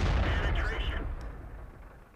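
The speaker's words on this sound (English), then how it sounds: "I switch back to armor piercing and start firing again at these guys" A single heavy boom from a Nashorn tank destroyer gun firing an armor-piercing round in World of Tanks, a loud close blast with a low rumbling tail that fades over about two seconds.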